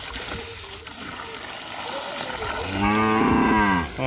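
A cow lets out a long, loud moo near the end, after a stretch of quiet background voices and splashing water as it is given drinking water and bathed at midday.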